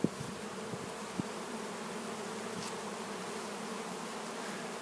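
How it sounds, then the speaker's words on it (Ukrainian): Honeybees flying around an apiary near drying honeycombs, a dense continuous buzzing hum throughout, with a few faint knocks early on and no voices. "От, і бджілки літають, правда, літають і, і мої, і чужі."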